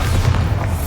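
Bombarda blasting spell cast in the video game Hogwarts Legacy, a single deep low-frequency boom with a rumbling tail, loud and close, filling the whole short moment.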